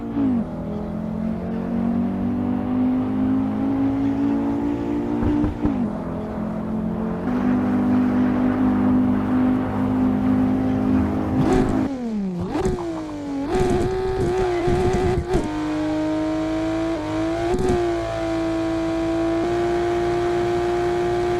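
Modified car engines in the racing game Assetto Corsa drone and rev loudly and continuously, pitch climbing through gears, dropping sharply around the middle, then steady high revving to the end, no speech.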